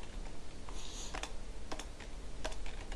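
Rapid keystrokes on a computer keyboard as code is entered, quick irregular clicks in short bursts, close and clear with no talking.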